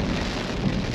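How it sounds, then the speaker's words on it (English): Heavy rain pours down steadily at a beach campsite on the Yorke Peninsula, a dense, constant hiss of drops hitting surfaces close by, with no voices. "it's still pouring with rain"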